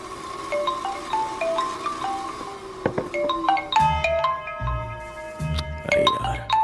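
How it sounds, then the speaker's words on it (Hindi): A mobile phone rings with a bright electronic melody of repeating beeping tones that builds into a fuller, layered tune, playing alone at moderate volume. "अरे यार, ये अभी क्यों फोन लगा रहा है?"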